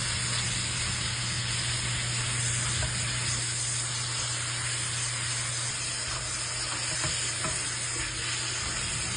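Pechay being sautéed and stirred in a pan for a kare-kare recipe, with a steady, loud sizzle and frying hiss throughout and occasional clinks of stirring, no talking.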